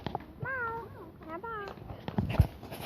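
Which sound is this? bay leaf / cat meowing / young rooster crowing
cat meowing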